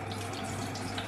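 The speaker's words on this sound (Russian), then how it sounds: "полить их водой." Tap water runs steadily into a sink, a continuous close splashing rush with no voices over it.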